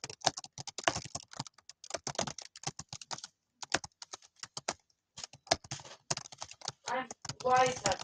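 Rapid, uneven clatter of a computer keyboard during a Nitro Type typing race, with brief pauses between flurries of keystrokes and a short bit of voice near the end.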